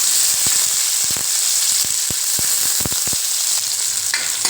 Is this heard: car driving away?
no